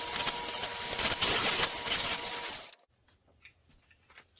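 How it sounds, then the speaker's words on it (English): A Ryobi belt sander with a disc sanding attachment works a scrap piece of wood, a loud steady grinding whir for under three seconds that cuts off abruptly into near silence. "grab a scrap piece of wood and sand something so you can see how that works"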